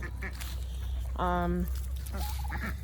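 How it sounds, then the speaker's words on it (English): A turkey gobbles once with a loud, warbling burst in the middle, surrounded by other fowl calls and some talking in the background. "That big turkey right there, that's Rico."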